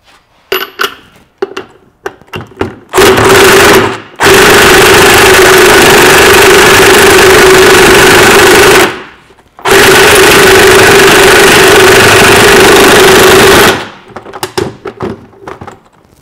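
A tool runs a socket down onto a nut on a Land Cruiser split-case transfer case: three loud, sustained mechanical whirring bursts at close range, separated by short silences, with a few clicks and knocks before and after.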